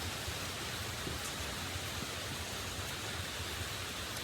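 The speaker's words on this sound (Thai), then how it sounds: "ที่สุราษฎร์ตอนนี้ฝนตกหนักมากครับพายุเข้า" Heavy storm rain falls in Surat Thani, Thailand, as a dense, unbroken roar of drops that stays loud and steady throughout.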